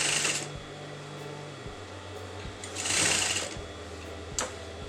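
A sewing machine stitches the neckline of a kurta, its needle motor running in steady bursts with brief pauses between runs, close and fairly quiet, with a louder surge near the middle.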